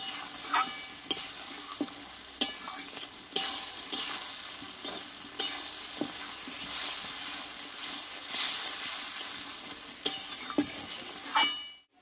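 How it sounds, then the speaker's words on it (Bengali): Potato and ridge gourd stir-fried with ginger and spices, a continuous close sizzle with regular spatula scrapes and occasional sharp metallic taps against the pan, no speech. "আলু ঝিঙেটা মশলার সঙ্গে ভালোভাবে কষিয়ে নিয়েছি"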